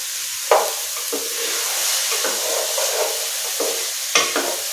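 A single tomato frying in a small amount of oil for ridged gourd palya gives a steady close sizzle, broken by several scraping stirs of a spatula.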